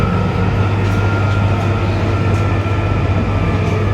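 A London Underground train rolls over the Dollis Hill Viaduct, heard from inside the carriage as a loud, steady rumble and drone with a constant low hum and faint rhythmic clatter, no voices.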